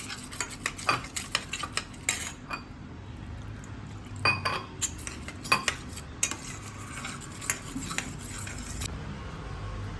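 Spoon clinks and scrapes against a pan as Manchurian chutney thickened with cornflour is stirred, the metallic taps irregular and close over a low background hum.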